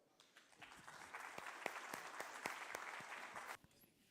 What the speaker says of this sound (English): So round of applause for Koh.